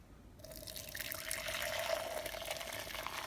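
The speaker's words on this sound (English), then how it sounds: "So we're just going to pour this into the bowl here." Homemade lobster stock poured through a strainer into a bowl in a kitchen: a soft, continuous splashing trickle that builds after a brief pause and stays fairly quiet.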